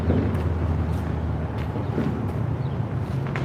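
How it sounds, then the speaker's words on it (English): A loud truck passes a railway trackside near the old Whiteside Tunnel, a heavy low rumble with wind buffeting the microphone, steady and close throughout. "And a loud gold truck."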